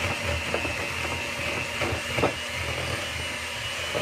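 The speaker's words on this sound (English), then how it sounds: "then I'm going to give it a quick blend" A kitchen blender whirs through a seasoned-salt mixture with a steady, loud motor hum and grinding rattle, running continuously without pause.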